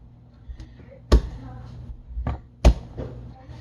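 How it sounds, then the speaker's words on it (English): A knife chopping a lot of crushed garlic on a board, two sharp, loud chops standing out over softer thuds in a quiet kitchen. "I'm just going to start chopping through this"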